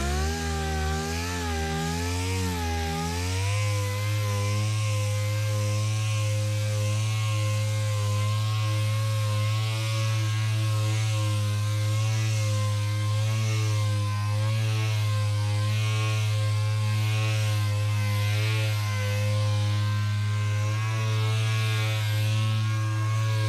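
Dual-action sander wet-sanding car paint with mild 3000-grit paper during detailing, a loud steady electric whirr that shifts pitch as it settles, running continuously with no talking.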